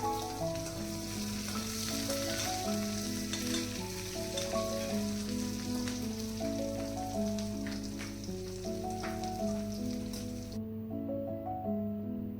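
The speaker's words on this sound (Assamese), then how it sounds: "এয়া এনেকৈ পিঁয়াজ দিছে। ধুনীয়াকৈ ভাজি ল'ব" Chopped onions fry in oil with panch phoron and dried chillies, a continuous soft sizzle running beneath loud tonal background music that stops abruptly near the end.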